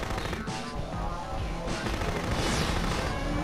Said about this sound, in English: What's that shooting me?